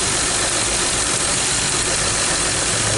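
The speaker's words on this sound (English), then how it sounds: "You see the vehicle is like running rough." Car engine idling rough from a leaking spark plug wire: a loud, close, continuous broadband rumble with an uneven, slightly knocking texture and no talk over it.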